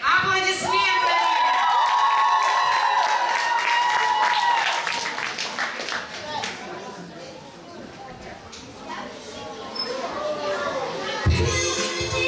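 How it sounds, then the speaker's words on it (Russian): Applause and cheering from a young audience at a children's camp art contest, loud shouts and high voices mixed with clapping, someone speaking through it, later settling into scattered claps. "Встречаем бурными аплодисментами!"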